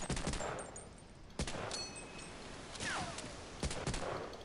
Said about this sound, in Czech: A jo, až teď po mě střílí.